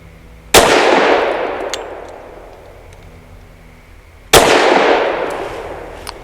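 Two sharp, loud shots from an Avidity Arms PD10 pistol firing punchy +P ammunition, about four seconds apart, each with a long ringing decay.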